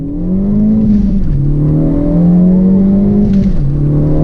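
A loud 2013 Ford Focus ST engine revs up close, pitch climbing then dropping at each gear change, twice within a few seconds.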